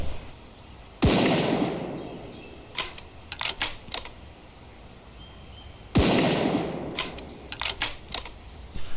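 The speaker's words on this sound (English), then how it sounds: "The guns in RTV have this really nice and meaty sound to them" Two heavy, meaty gunshots from weapons in the game Road to Vostok, each a loud sharp crack with a long rolling tail, followed by mechanical clicks of handling; no voices.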